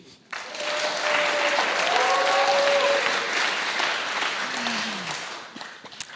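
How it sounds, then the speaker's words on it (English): An audience at a startup innovation opening ceremony breaks into steady applause that swells quickly and holds for several seconds before tapering off, with a faint voice drifting underneath. "your big applause, please"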